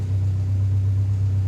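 A car engine idles steadily at close range, a low continuous rumble holding an even note throughout with no revving or speech.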